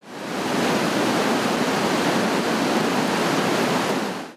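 Floodwater rushes through the spillway gates of a dam on the Tigris River after heavy rain broke one gate loose, a steady broadband roar that holds loud and unbroken throughout with no voices.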